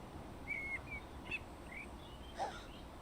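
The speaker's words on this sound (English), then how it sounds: "listen to the birds and the dogs and the cats" Faint, sparse bird chirps and short whistled calls in Train Sim World 2, a few brief tweets scattered over a quiet background with no talking.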